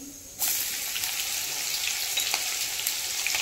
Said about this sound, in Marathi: जिरे छान अशी फ्राय झाली की मग त्यामध्ये घालून घ्यायची मिरची